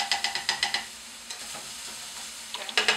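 Stuffed mushrooms cook in a pan with a soft, low sizzle, punctuated by bursts of quick rhythmic tapping and scraping at the start and end.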